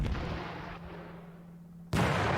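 SS artillery fire in the Panzer Campaigns Kiev 43 wargame: a loud booming shot with a long fading rumble, followed by a second sharp blast near the end, no voices.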